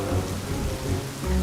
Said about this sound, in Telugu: కుండపూత వర్షం మొదలయింది